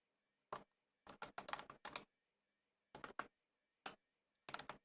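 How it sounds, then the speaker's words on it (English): A loud mechanical computer keyboard clacks in irregular bursts of quick keystrokes separated by short pauses, crisp and close with nothing else audible. "This keyboard, this mechanical keyboard is loud as shit"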